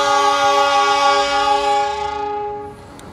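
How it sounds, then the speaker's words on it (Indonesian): The Argo Dwipangga train sounds a long, loud horn blast while pulling away from Jakarta Kota station, the tone holding steady then cutting off as rumbling rail noise fades. "Kereta api Argo Dwi Pangga sudah meninggalkan stasiun Jakarta Kota dan tidak lama lagi akan sampai di stasiun Gambir"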